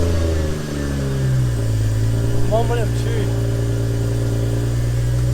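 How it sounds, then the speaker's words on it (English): 1JZ engine of a 400bhp Toyota Soarer, a loud steady low drone that rises in pitch and holds a high idle, while a person speaks briefly partway through. "We're gonna start the car up now"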